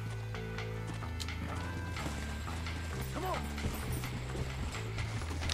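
Horse hooves clip-clop steadily in the video game Red Dead Redemption, a continuous rhythmic trot under background music and someone talking.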